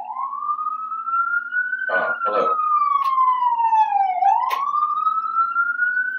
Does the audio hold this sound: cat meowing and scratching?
no